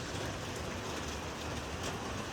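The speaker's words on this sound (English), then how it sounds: "Now it's just rain." Steady rain falls outdoors after a heavy hailstorm at a home, a dense, even hiss of drops hitting surfaces, continuous and fairly close with no distinct pauses or voices.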